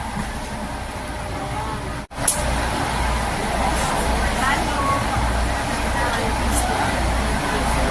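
A train pulls into the Hong Kong Disneyland Resort station with a loud, steady rumble of wheels and motor. A brief cutout interrupts the noise, followed by a sharp clank. People are heard talking over it.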